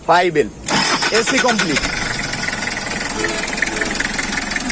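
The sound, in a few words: diesel car engine starting and idling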